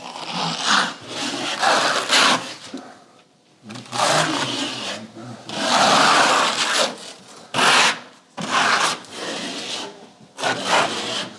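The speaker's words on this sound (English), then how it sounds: "We can even grab a sponge, a grout sponge, and do it. Wash it really well." A grout sponge scrubs a baseboard in repeated rough rubbing strokes, loud and close, with short pauses between bursts.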